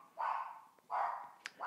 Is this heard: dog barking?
yes